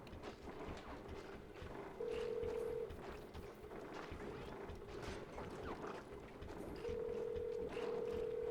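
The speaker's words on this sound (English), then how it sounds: "Oh, Farmer Murray's having a little phone call." A ringing telephone in a farm video game chirps in two faint electronic bursts, separated by a pause, over a soft continuous background bed.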